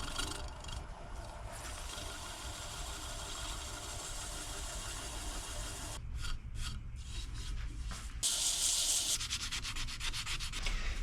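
Steady abrasive sanding of a turned wooden bowl, a continuous rubbing rasp with a low machine hum beneath, growing a bit harsher toward the end.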